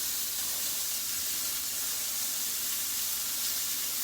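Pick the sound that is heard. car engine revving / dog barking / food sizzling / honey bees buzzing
food sizzling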